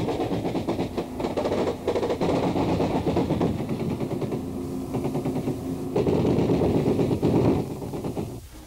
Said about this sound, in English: bark of Chinese Communist AK-47s comes from the left bank.